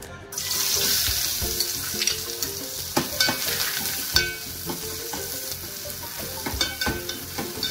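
Two large finely chopped onions fry in two tablespoons of hot oil with a dense, close crackle and sizzle, broken by regular scraping strokes of a spatula against the pan.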